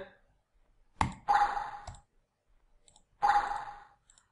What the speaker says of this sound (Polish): Klikamy na lalkę i nic się nie dzieje.